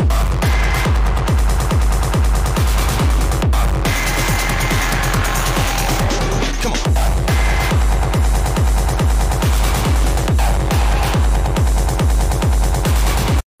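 Distorted electronic music from a chase-scene track pounds along in steady, heavy rhythmic throbs under a harsh, gritty wash, with a brief sustained low drone partway through and an abrupt cutoff at the end.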